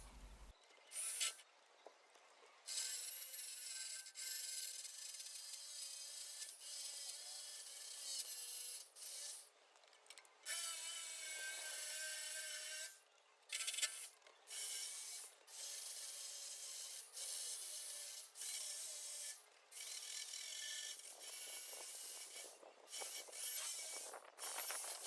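A drill-mounted wire attachment scrubs rust off bare metal on a 1968 VW Bug, a harsh high rasping whir in long bursts with short pauses, recorded close and loud.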